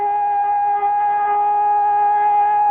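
A loud, steady siren tone with strong harmonics blares continuously, nearly unchanging in pitch, then cuts off abruptly at the end.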